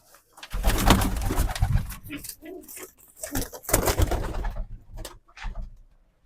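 Racing pigeons coo repeatedly at close range, soft throaty calls overlapping one another in a busy, continuous stream with a few brief pauses.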